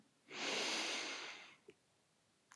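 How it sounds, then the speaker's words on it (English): A single slow, audible inhale by a person during a gentle body scan meditation, close and soft, lasting over a second, followed by quiet and a faint click. "Again, breathing in"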